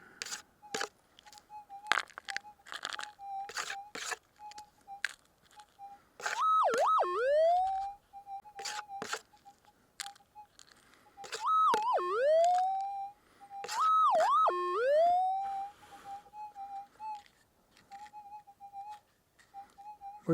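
A metal detector passing over a small piece of gold emits a steady tone broken by several loud warbling, swooping signal bursts, with faint clicks and rustling around it and no talking.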